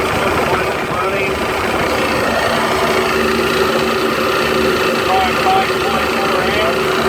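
Compressor on circuit 1 of a Trane rooftop unit with a bad compressor, running as a steady mechanical hum and drone, close and continuous, with a person speaking over it.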